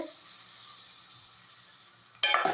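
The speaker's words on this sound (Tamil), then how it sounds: "ஊற்றிட்டு நல்லா கிண்டி விட்டுட்டு" Spicy prawn masala gravy being stirred in a pan: a faint, low simmer holds steady, then a sudden loud burst of scraping and sizzling comes in at the very end.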